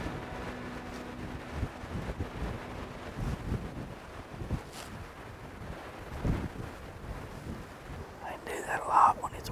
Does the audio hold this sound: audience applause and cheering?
no